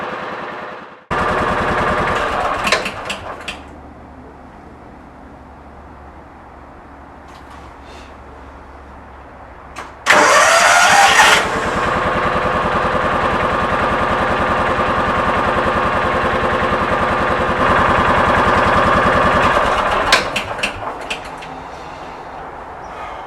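John Deere Gator engine after an ignition coil replacement, cranking in loud rough bursts, then catching and running with a steady close chugging idle that fades out before another brief burst near the end.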